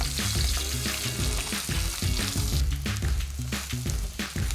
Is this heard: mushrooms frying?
yes